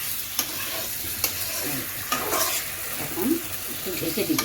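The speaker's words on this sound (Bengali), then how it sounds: "এখন আমি চিংড়িগুলা দিয়ে দিব, আবার চিংড়িগুলা এখন কষাবো।" Prawns sautéed in a spice masala in a pan, with a soft steady sizzle and a few sharp utensil scrapes and taps against the pan, someone speaking briefly near the end.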